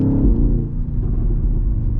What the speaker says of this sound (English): you have some crazy sounds too from the throttle and everything when you're on it